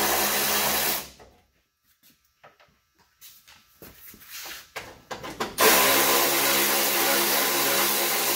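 Metal tool work on 8 mm bolts being undone on a ZF5 transmission during a Bullnose truck swap, with loud broadband hiss bookending a quieter stretch of scattered clicks, scrapes and ratcheting knocks near the microphone.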